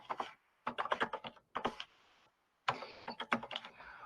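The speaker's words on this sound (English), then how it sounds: "I can type it in the chat." Typing on a computer keyboard comes in quick clattering bursts of keystrokes with short pauses between them, close and fairly quiet, with no one talking.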